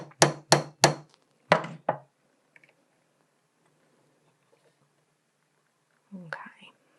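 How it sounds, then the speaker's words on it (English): Five sharp, ringing hammer taps in quick succession strike a rivet on a metal bench peg or steel block while a domed locket is assembled. They are close and loud, followed by quiet and a brief voice near the end. "because you're going to be hitting it against your metal bench peg or steel block"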